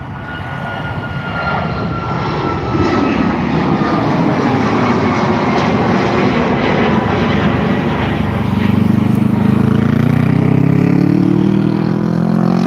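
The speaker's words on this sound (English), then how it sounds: "That was Ryanair flight to Gran Canaria, FR94, 1-year-old MAX 8" A Ryanair Boeing 737 MAX 8, about a year old, takes off from Dublin Airport with a loud, sustained jet roar that swells and rises in pitch toward the end.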